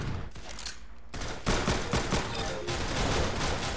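Rapid gunfire from a shooter video game using the golden gun, dense bursts of shots running nearly continuously and loud after a brief lull near the start, with no voices.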